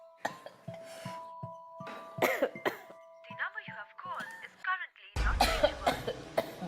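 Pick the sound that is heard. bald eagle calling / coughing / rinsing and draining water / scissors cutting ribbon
coughing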